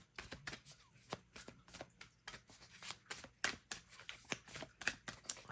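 Tarot cards shuffled and pulled by hand, close and quiet, with a series of soft riffling slaps and flicks coming in an uneven rhythm.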